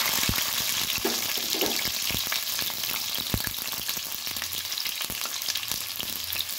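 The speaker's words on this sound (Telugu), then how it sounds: "ఆయిల్ వేడవ్వగానే ఆనియన్స్ ముందు వేసుకోవాలి" Onions fry in hot oil in a pan for chicken biryani, a loud, dense crackling sizzle close up, dotted with quick popping and stirring clicks throughout, with no voices.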